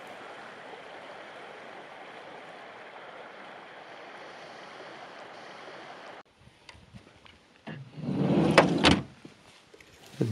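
Snowmelt water flows steadily in a stream in Finnmark, Norway, an even, faint rush that gives way to scattered knocks and a louder, brief splash.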